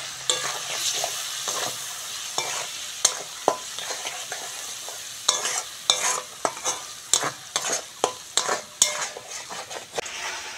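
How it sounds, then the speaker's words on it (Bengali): Turmeric and chili powder masala sautéing in a pan for a potol and prawn dish, a constant close sizzle broken by repeated sharp scrapes and clicks of a spatula against the pan in an uneven rhythm. "এবার ভালো করে মশলাটা কষবো"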